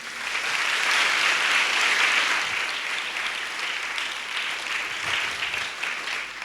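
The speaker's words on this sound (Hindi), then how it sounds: "अपने लिए ताली बजा लीजिए।" Steady, sustained applause from a congregation at a foundation day special church service, many hands clapping evenly throughout with no voices over it.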